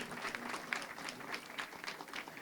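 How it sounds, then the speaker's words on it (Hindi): Audience applause at the Tri-Diwasiye Parna Mahotsav in Ooty, a steady, dense clapping that continues throughout at moderate distance. "इसलिए इनके लिए जोरदार ताली बजा के इनका अभिनंदन करो पहले।"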